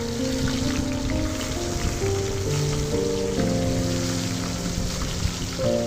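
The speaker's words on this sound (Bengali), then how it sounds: "এখন এতে দেবো মাছ।" Fish shallow-frying in heated mustard oil in a village kitchen wok, a dense, continuous crackling hiss that stays steady and fairly loud throughout, with background music underneath and no talking.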